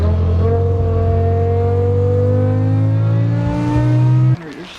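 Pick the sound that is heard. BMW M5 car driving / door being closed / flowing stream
BMW M5 car driving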